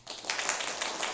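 Applause breaks out during a church service to welcome a newly baptized member, a dense, steady patter of many hands clapping together for about a second.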